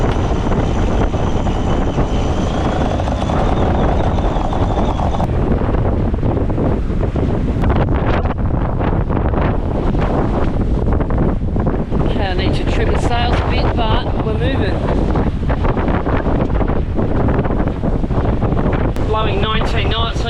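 Strong wind roars steadily across the microphone on a sailboat under main sail at sea in about 20 knots of wind, with waves and water rushing past the hull throughout, loud and continuous.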